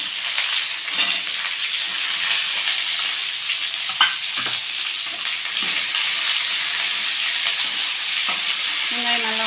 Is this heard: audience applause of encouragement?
no